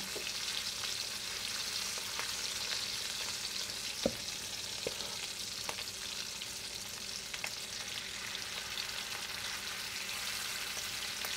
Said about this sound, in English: Gently put in the oil. Be careful of that oil. Very, very hot.